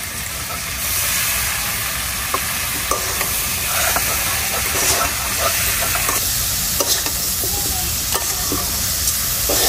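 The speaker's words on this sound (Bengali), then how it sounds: "এখন মশলার সাথে হালকা একটু কষায় নিব।" Turmeric-coated fish is stir-fried with ground spices and vegetables in a pan in village-style cooking, a steady loud sizzle with hissing steam and scattered scraping stirs throughout.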